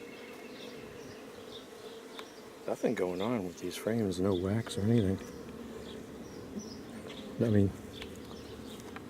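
Honey bees buzzing around frames and a honey super during a hive inspection, a steady nearby hum with a few louder passes of single bees close by, while someone talks over it.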